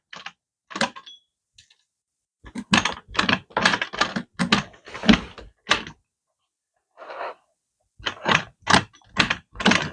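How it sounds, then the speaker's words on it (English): A sewing machine stitches a fold in isinglass for a three-season porch, in loud, close bursts of rapid mechanical chatter broken by short pauses and a brief softer stretch. "And we're just sewing this fold here"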